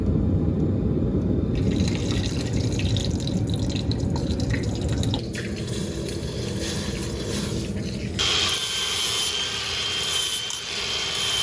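Hot forged steel hammer heads quenched in motor oil give a steady, close sizzling hiss that keeps up for about eleven seconds, its texture shifting and brightening at a couple of points, with no talking.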